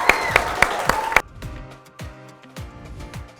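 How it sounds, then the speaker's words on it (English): A short burst of clapping for an award winner at a school celebration of achievement, sharp claps at first, then thinning into scattered, softer claps. "Let's give Abraham another huge round of applause"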